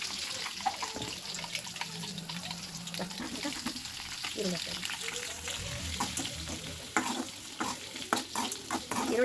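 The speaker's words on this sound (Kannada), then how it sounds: "ನಾನೀಗ ಹಸಿಮೆಣಸಿನ್ಕಾಯಿ ಹಾಕ್ತಾಯಿದ್ದೀನಿ ಅದರಲ್ಲಿ ಕ್ರಿಸ್ಪಿ ಆಗುತ್ತೆ" Green chillies fry in a pan for a beetroot palya breakfast, with a steady sizzle broken by scraping stirs and clinks of the utensil, and a few louder knocks near the end.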